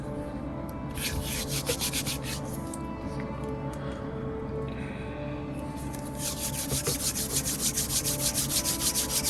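Two-part epoxy putty and its activator being kneaded together by hand, giving a steady soft rubbing and squishing texture with brief rhythmic bursts, close up and fairly quiet, with no talk over it.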